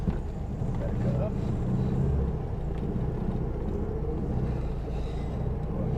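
Steady low engine rumble of a 1972 Volkswagen Super Beetle idling continuously, close by, with a faint higher whine over the top and no speech.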